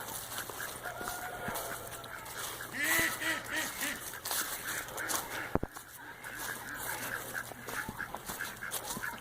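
A flock of about 50 ducks quacks repeatedly outdoors, with honking calls mixed in over steady background noise and a sharp knock midway.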